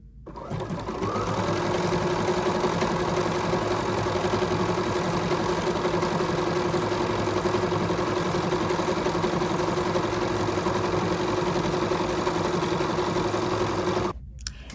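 A Bernina sewing machine stitches a decorative heart stitch in one continuous, even mechanical whir with rapid needle clatter. It runs close and steady for about thirteen seconds, then stops abruptly.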